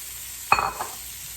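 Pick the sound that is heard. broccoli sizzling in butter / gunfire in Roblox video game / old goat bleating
broccoli sizzling in butter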